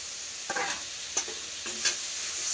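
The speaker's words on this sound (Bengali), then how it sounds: "দিয়ে আমি এই মশলাটাকে আর একটু কষিয়ে নিই" Masala paste for raw-banana kofta curry fries in a pan with a steady, close hiss while a spoon scrapes and stirs it in three or four distinct strokes.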